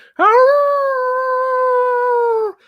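A person imitates a werewolf howl with the voice: one long, sustained, steady howl lasting over two seconds, loud and close, rising briefly at the start and then holding before cutting off.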